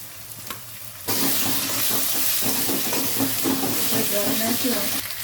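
Onions browned in hot oil with ginger-garlic paste and green chili paste added, loud steady sizzling with stirring scrapes, starting after a quieter moment and holding strong throughout, an egg curry in progress.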